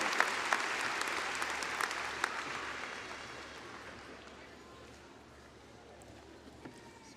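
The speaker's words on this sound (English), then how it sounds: "join me in a round of applause" Audience applause at a college commencement ceremony, starting fairly strong and then slowly fading, with a few louder individual claps and faint voices in the mix.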